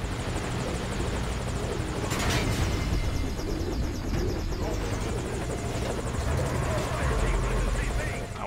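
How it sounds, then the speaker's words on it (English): In the video game Metal Gear Solid V: Ground Zeroes, a helicopter arrives at a landing zone, its rotor chop and engine roar forming a loud, sustained wash that swells slightly midway, with voices speaking over it. "Should I get on the chopper?"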